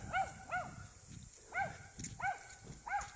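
Dogs bark in a series of sharp, yelping barks in quick bursts, several in a row with short pauses, moderately close over faint outdoor background.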